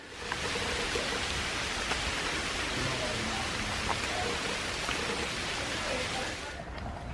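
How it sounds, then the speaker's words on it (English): Rain falls on the Honopu Valley Trail on Kauai as a steady, broad hiss of droplets that stays even throughout, with murmured voices faintly beneath. "If you listen carefully, you will hear the rain."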